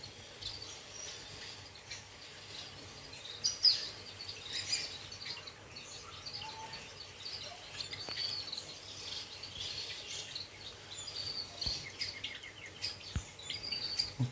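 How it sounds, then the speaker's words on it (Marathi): Sparrows chirping from nest boxes at an aquarium theme park in Konkan, scattered small tweets and calls over a faint steady background hum, fairly distant and soft, with no talking. "प्रत्येक चिमण्या स्वतःच्या घरात बसल्या आहेत."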